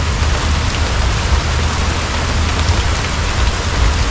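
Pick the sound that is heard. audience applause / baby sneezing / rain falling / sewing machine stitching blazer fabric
rain falling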